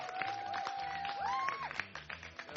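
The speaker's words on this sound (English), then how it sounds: "Round of applause for Chad at X Games." Audience applause for BMX rider Chad Kagy after his X Games medals, a dense steady patter of clapping mixed with crowd noise and a tonal whistle-like sweep, sustained through the short span.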